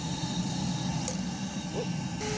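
A Nacecare RBV 150NX cordless backpack vacuum running on its high setting gives a steady, even airy hiss with a faint whine throughout, close by and with no talk.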